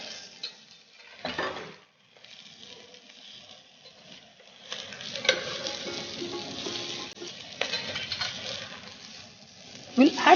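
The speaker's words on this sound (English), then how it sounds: "we will add the shells of the prawns. Please saute it." Prawn shells sautéing in a pan for a bisque, a steady soft sizzle with stirring scrapes and occasional light clinks of utensils, moderately close and growing busier in the second half.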